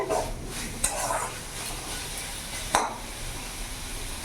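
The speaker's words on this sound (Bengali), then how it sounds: "শাকটা আমার পুরো ভাজা ভাজা হয়ে গেছে" Red amaranth leaves stir-frying in a pan, an even sizzle with a few sharp scrapes and clinks of a utensil against the pan, close and steady.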